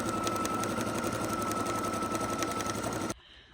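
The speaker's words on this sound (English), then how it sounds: "to put it under our sewing machine arm, we are just rolling it so it smoothly flows" A sewing machine runs steadily while stitching a lined tote bag with gussets, a close, continuous mechanical whir that holds for about three seconds and then stops abruptly.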